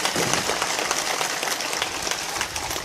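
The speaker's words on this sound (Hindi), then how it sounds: "ताली बजा दो" A gathered audience at a religious discourse claps in a moderate, sustained patter, heard at a modest distance without speech over it.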